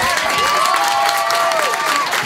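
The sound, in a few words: applause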